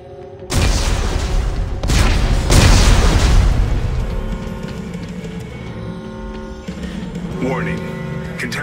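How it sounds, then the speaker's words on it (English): Explosives detonating in Dead Space 3: a sudden heavy boom followed by a second blast, then a long rumbling decay that slowly fades into a low, distant drone. "Computer, arm explosives."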